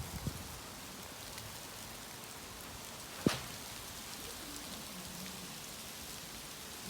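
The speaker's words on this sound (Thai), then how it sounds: "ลูกเห็บลูกเห็บลูกเห็บ" Hail falls outdoors beside a small house in cold early-spring weather, a fairly quiet, even patter with one sharp close impact midway and no talking.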